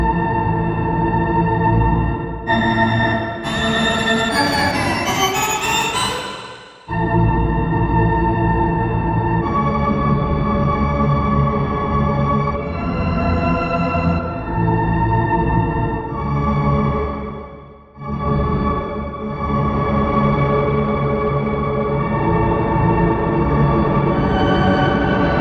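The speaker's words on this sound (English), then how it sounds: "we're kind of using it a bit more like a granular synth, like Granulator Pro in Max for Live" A sampled sound is played through Ableton Simpler like a granular synth, pitched down and drenched in reverb, giving sustained, droning, shimmering tones with a rising sweep near the start and short dips between phrases, loud and alone.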